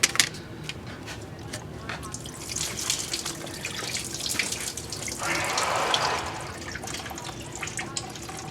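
Engine coolant splashes and trickles out of a detached coolant hose at the thermostat housing during a head gasket replacement, a steady liquid pouring that swells briefly midway, with a voice speaking under it.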